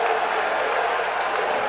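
A high school basketball crowd, Dematha vs Paul VI, cheering after a three-pointer: a sustained, dense roar of voices and applause filling the gym, steady and loud.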